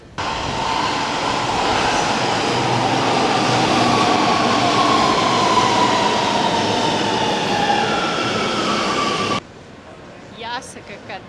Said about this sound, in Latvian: Un tagad laiks pamēģināt metro.